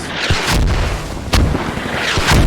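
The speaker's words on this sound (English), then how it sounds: "Mortars coming down on the hill." Mortar shells burst on a hill in a video game battle, several loud booming impacts landing in quick irregular succession, one sharper blast standing out midway, with no voices over them.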